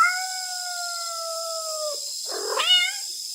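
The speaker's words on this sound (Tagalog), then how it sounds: "may narinig akong pumapalahaw na kuting" A kitten wails with long, drawn-out high cries, then a shorter rising yowl follows after a pause; loud and close against a quiet background.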